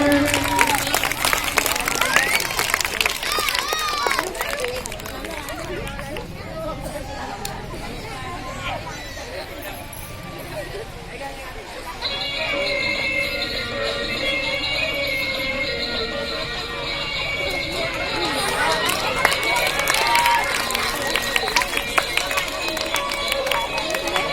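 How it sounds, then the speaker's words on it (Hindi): Audience clapping for children at a school cultural programme, a crowd applauding in waves amid chatter and an announcer's voice, swelling louder near the end. "तालियां बजाएं इन बच्चों के लिए।"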